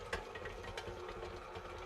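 An electric mixer beating stiff s'mores cookie dough with graham cracker, giving a faint, steady mechanical whir with a slight rhythmic knock.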